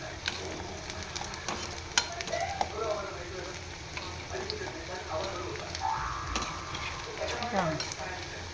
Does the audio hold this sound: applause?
no